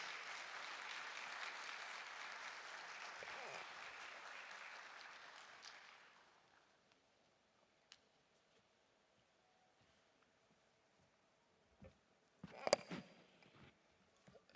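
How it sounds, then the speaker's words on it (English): Fairly faint applause from a summit audience in Accra welcomes Honorable Samuel Nate George, a steady patter that fades out after about six seconds into near silence, followed later by a few brief knocks and rustles. "Ladies and gentlemen, with a round of applause, let's welcome Honorable Samuel Nate George"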